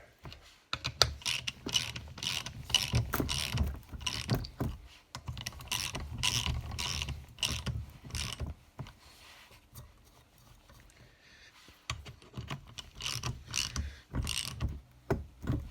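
Bolts are tightened on a pitbike engine's top end with a ratchet, giving repeated bursts of rapid, close mechanical clicking separated by short quiet pauses.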